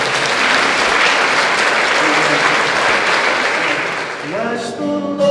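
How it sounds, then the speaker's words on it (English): A church congregation at a Sunday morning service breaks into sustained loud applause and cheering, which fades near the end as music begins. "Give them a big cheer"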